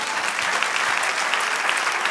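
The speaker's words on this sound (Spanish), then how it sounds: "Denle un aplauso al Señor." Church congregation applauding the Lord during a prophetic sermon, a steady dense wash of clapping sustained throughout without a break.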